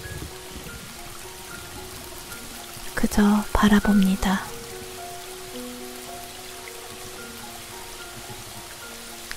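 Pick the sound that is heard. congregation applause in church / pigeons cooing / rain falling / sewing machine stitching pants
rain falling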